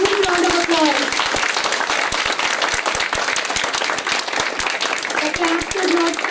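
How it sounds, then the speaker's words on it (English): A crowd at a high school annual day celebration gives loud, dense, continuous applause throughout, close and sustained, with a voice talking over it at the start and again near the end. "The clap should not stop. Give a huge round of applause."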